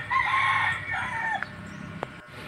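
A fighting cock on a farm lets out one loud, near crow with a long drawn-out call, then a few short clucks and a faint tap, with no voices.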